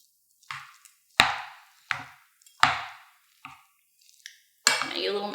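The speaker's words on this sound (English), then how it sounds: "Mix that all together." Millet and spice stuffing mixed in a bowl with a utensil gives a handful of sharp, separate clinks and scrapes, close and distinct, with short quiet gaps between them and a busier scraping at the end.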